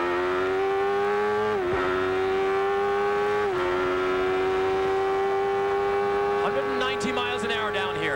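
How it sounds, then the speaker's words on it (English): Onboard 1993 IndyCar racing engine at Mid-Ohio's keyhole, a loud sustained whine that dips briefly with each upshift from second to third gear, holding a steady high-revving tone close up. "This is the keyhole. Second gear, third gear, sometimes in a 6-speed gearbox."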